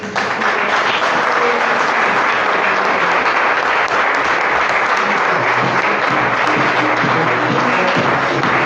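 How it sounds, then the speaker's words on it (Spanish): A church congregation gives loud, sustained applause, a dense and even roar of clapping with no pauses. "levantamos una ofrenda de aplausos a tu nombre, Señor."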